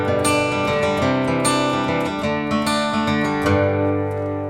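An acoustic guitar plays the fingerpicked verse pattern of a song, with steady, clear plucked notes ringing over sustained chords, close and alone.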